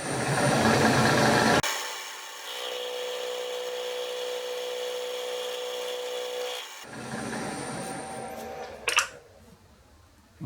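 A half-inch bullnose cutter machines metal for a 40-position tool post holder, producing a steady tonal scraping drone that starts abruptly, holds evenly for several seconds, then stops, followed by softer tool contact noises and a brief clatter.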